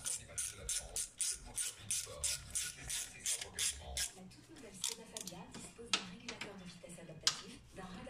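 Ratchet tightening bolts on a Citroën C3 1.4 HDi engine during a timing kit and water pump job, a regular run of close, sharp clicking strokes, then a few scattered clicks and knocks.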